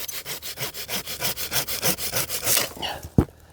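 Rapid, rhythmic back-and-forth strokes of a hand saw cutting through a thin pine tree branch up close, ending with a sharp snap as the piece breaks off.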